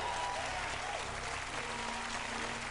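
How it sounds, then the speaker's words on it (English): Steady applause from a studio audience on a TV quiz show fills the room for the whole stretch, dense and even, with no talking over it. "you deserve a lot of applause"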